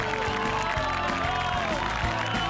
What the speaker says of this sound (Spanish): vamos a recibirlo a Emilio Pintos con un aplauso, por favor